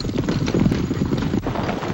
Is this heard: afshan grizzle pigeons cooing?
no